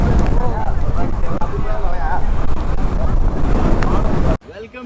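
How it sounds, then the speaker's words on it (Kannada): Strong wind roars and buffets the microphone on the open coast at Dhanushkodi, a loud constant rush with surf and crowd voices mixed in, cutting out abruptly near the end. "ಏನ್ ಗಾಳಿ."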